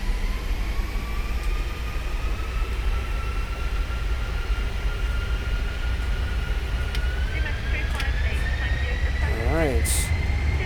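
Steady airliner engine roar builds during a takeoff roll down the runway in the X-Plane 11 flight simulator, a broad continuous drone with rising whine, loud throughout with a voice speaking over it.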